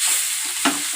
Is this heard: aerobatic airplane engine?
no